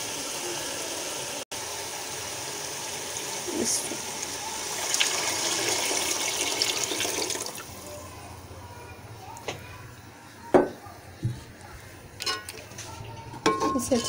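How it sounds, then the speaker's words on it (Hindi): Chickpea broth is poured into cooked masala in a pot for chana pulao, giving a long, steady splashing pour, then softer stirring with light clinks of a spoon against the pot. "अब मैं इसमें चनों का जो सूप है वो मैं इसमें ऐड करूँगी।"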